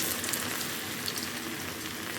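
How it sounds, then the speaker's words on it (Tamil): Onion pakoda batter frying in hot oil, a soft, steady sizzle and crackle with fine bubbling throughout, close and unbroken, no voices. "எண்ணெய் காஞ்சதும் இந்த மாதிரி குட்டி குட்டியாக நம்ம எடுத்து போட்டு பொரிச்சு எடுத்துக்கலாம்"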